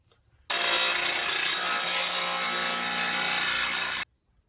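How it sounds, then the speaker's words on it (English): Corded angle grinder cutting through spinning carriage bolts on a VW Bus, a loud continuous hissing, grinding whine that starts abruptly, holds steady for about three and a half seconds, then cuts off. "I'm going to use an angle grinder and just cut them off"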